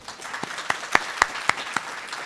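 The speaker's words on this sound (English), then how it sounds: "let's give him a round of applause" A small group at a keynote reception gives a brief round of applause, with a handful of distinct, fairly sharp claps ringing out one after another against a quiet room.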